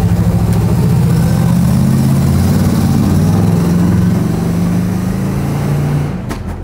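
A Buick car engine runs steadily nearby with a loud, even low rumble and a slight wavering pitch, then settles lower for the final moment.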